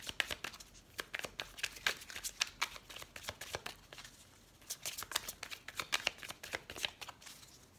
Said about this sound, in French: Allez, on coupe le jeu.